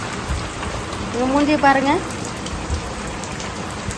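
Heavy rain pours steadily with a dense, even hiss throughout, while a voice speaks briefly over it.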